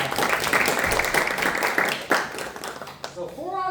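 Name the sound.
audience applause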